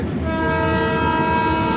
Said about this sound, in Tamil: இந்த ட்ரெயின் ரொம்ப சூப்பராக இருக்குது ஏசி ட்ரெயின் இது